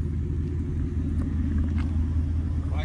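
A Ford Mustang GT idles with a deep, steady engine rumble before a drag race against a Mercedes, the low drone loud and constant throughout.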